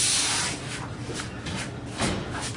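Squeegee pressed firmly across 3M film on a textured surface, giving close, coarse rubbing and scraping strokes that rise and fall in several broad swipes.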